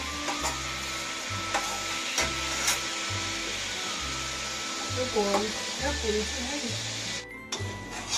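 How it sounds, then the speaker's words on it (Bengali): Steady sizzling of onions frying in a pan with a little salt, with occasional stirring clinks and a voice talking over it. "এবার আমি এই সামান্য পেঁয়াজ আর একটুখানি নুন দিয়ে নিয়েছি"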